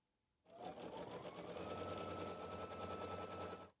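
An embroidery machine stitches a placement outline for quilt batting, starting abruptly and running at a steady, rapid stitching rhythm with a low motor hum underneath. It is close but fairly quiet, with no speech.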